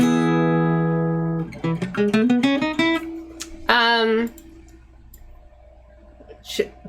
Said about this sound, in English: And a chord will sound like this.